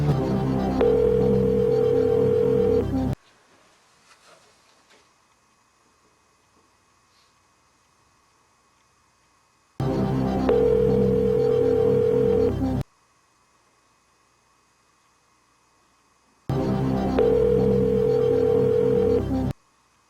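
Bursts of a game-show telephone tone, each lasting about three seconds, recur three times with stretches of near silence between them, loud and electronic with no talk.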